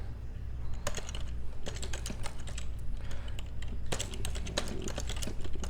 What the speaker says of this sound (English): You might hear me clicking on the keypads.